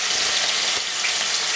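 Loud, steady sizzling of chicken frying in a hot pan, close up, with a faint crackle partway through.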